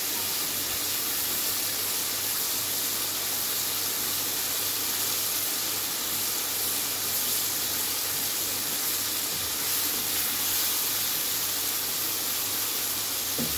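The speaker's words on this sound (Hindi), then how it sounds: "अब हम इसको थोड़ा सा भूनेंगे।" Yogurt-based masala for stuffed tinda sizzling as it fries in the pan, a steady, even hiss with a faint low hum and no voices throughout.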